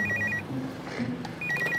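A telephone rings indoors with two bursts of a bright, electronic trilling ring separated by a short pause, loud and close, with no speech over it.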